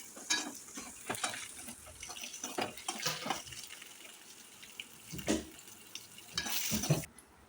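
Peeled boiled eggs sautéed in a pan give a faint, low sizzle broken by scraping stir strokes and clinks, intermittent and close, with louder bursts of spatula movement.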